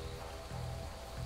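Steady rain falls in ARK: Survival Evolved, a dense, even hiss of drops that stays continuous and fairly loud throughout with no voices.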